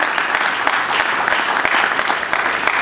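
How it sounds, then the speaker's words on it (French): Audience at a book launch claps vigorously, a continuous loud wash of hand claps with distinct sharp hits, no speech. "Est-ce qu'on peut applaudir très fort?"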